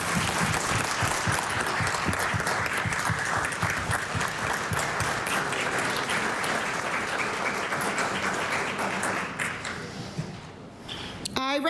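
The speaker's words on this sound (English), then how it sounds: "I ask for another round of applause for TNVM" A large crowd applauds in a legislative House of Assembly chamber, with dense, steady clapping that fills nearly the whole stretch and thins out just before the end, with a voice faintly mixed in.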